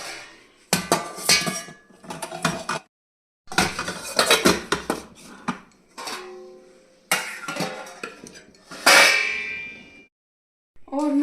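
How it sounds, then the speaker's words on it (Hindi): Kitchen utensils, pots and metal cutlery being put away into drawers, with repeated clattering and clanging bursts separated by short pauses, close and fairly loud, with no talking. "तो फटाफट बर्तन रख देते हैं हम ड्रॉर्स के अंदर।"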